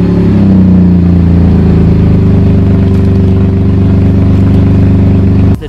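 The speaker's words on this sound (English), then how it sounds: "Let's do a cold start for the vlog." A Chevy Colorado truck engine idles after a cold start on a snowy day, a loud, close, steady low rumble that holds evenly and then cuts off abruptly at the end.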